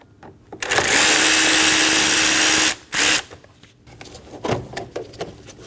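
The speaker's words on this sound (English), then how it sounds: "Using a T15 bit, we're going to remove the two screws for the intake." A power driver fitted with a T15 bit whines loudly for about two seconds, pauses briefly, then gives a short second burst while removing two intake screws on a 2012-2022 Volkswagen Passat. Faint clicks and handling noises follow.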